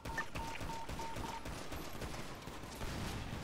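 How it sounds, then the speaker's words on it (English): Shotgun fire near apartments during a game shootout, a rapid burst of repeated sharp cracks packed closely together, loud and continuous across the clip, with a faint electronic tone early on. "Shotgun by apartments."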